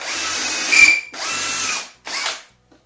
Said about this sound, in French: Et je vais venir percer jusqu'à ce que ma butée vienne en contact avec mon gabarit.